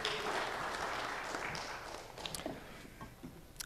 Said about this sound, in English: How about a round of applause for our microphone runner?